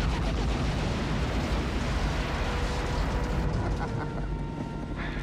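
Missile strike explosion from the 1990 helicopter action film Fire Birds (Wings of the Apache), a loud sustained roaring blast with rumbling debris that slowly tapers, dense and close.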